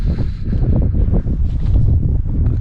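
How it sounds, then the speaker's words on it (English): Strong, steady, cold wind roars and buffets the microphone throughout on Kinder Scout moorland at night, a dense low rumble with gusty surges and no talking. "it's been very windy all night and it's really cold in that wind"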